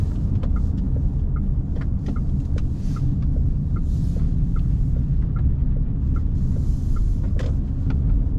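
A heavy car of about 3.5 tons is driven along a Norwegian road in winter on tyres without studs, heard from inside the cabin as a loud, steady low engine and road rumble with small clicks and knocks.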